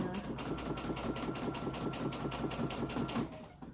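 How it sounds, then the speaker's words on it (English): A sewing machine runs steadily, stitching down seam binding on a lunchbox placemat, with a fast even needle rhythm close by for about three seconds before it stops. "Sewing very close to the end of your seam binding"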